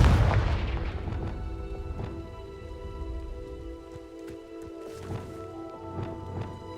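A fiery Confringo spell explodes in the video game Hogwarts Legacy: one loud booming burst opens, followed by a rumbling tail, sustained tonal hum and scattered lighter impacts and crackles.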